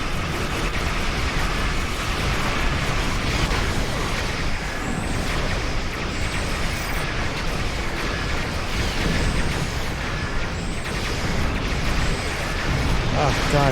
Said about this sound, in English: It's a lot of explosions.